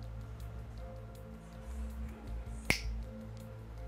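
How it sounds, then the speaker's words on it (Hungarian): A magician's single sharp finger snap rings out once, close and clear, over a quiet low room hum. "mikor meghalljátok a csettintést"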